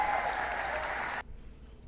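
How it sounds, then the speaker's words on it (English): An audience applauds and cheers in a played clip, a dense wash of clapping that cuts off abruptly after about a second, leaving near silence. "Who are these crazy people in the background that are cheering that?"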